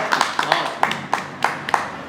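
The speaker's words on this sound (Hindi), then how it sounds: "क्या तालियां एक बार भाभी जी की" A small group claps sparsely for a school director at an Apex Modern School event, six or seven distinct hand claps spaced irregularly over a murmur of nearby voices.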